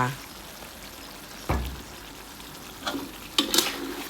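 Water hits a hot pan of pork ribs stir-fried with southern Thai curry paste, giving a few short splashing, sizzling bursts close by, with a person talking between them.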